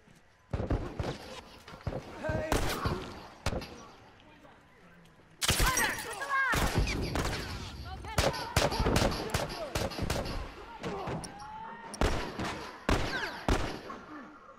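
Bursts of rapid gunfire in a multiplayer factions shooter game, loud sharp shots in irregular clusters and longer sustained volleys, with players talking over them.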